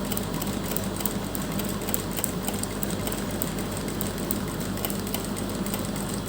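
Sewing machine stitching a strip onto a kurti neckline, a fast continuous mechanical whirr with rapid needle ticks, close and steady throughout.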